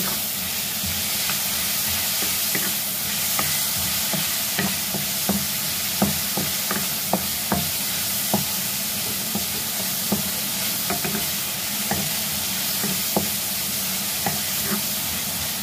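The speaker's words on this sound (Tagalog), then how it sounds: "Isa-isa ng kamatis para lumabas ang kanyang sabaw." Tomatoes sautéing in a pan with a loud, constant frying hiss, broken by frequent light clicks and scrapes of the spoon stirring, close up, with no voices.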